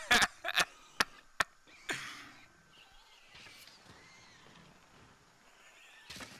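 A Mosswine, a moss-covered pig creature in the video game Monster Hunter World, lets out a burst of sharp snorts and squeals at the start. A few softer grunting calls follow, and a brief squeal comes at the end.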